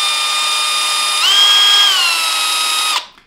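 A power drill spins against the center of a coned pinewood derby car axle, giving a steady, close, high whine for about three seconds. Its pitch shifts partway through before it cuts off abruptly.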